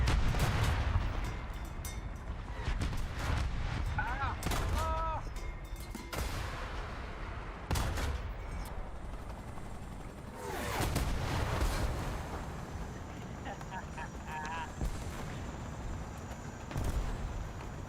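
Repeated booming blasts and rumbling impacts from TOW missiles and shell explosions in an armored vehicle combat video game, several heavy bursts spaced across the stretch over a low background rumble, no talking.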